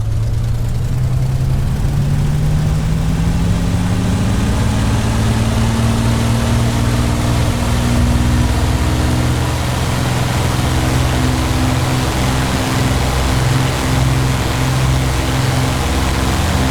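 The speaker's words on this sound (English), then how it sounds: "For comparison's sake, let's do an engine run-up to the same power we had before." Spitfire engine run-up with a de Havilland two-pitch propeller in a flight simulator game: a loud, continuous droning roar whose pitch climbs steadily as power rises, then holds steady.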